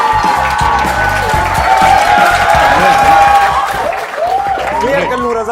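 An audience claps and cheers loudly to welcome guest Raza Samo onto a talk show stage, a dense continuous burst of applause with whoops that fades out toward the end.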